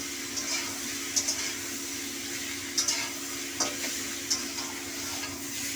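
Spice paste frying lightly in oil in a pan for a Bengali home-style parshe fish curry, a steady soft sizzle with a few scattered spoon taps and scrapes, close and fairly quiet, no talking.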